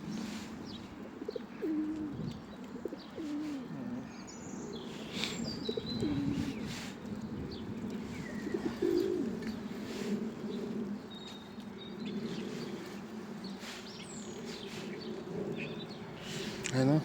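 Pigeons cooing softly in Ireland, repeated low throaty coos with scattered chirps from other birds, while people talk nearby throughout.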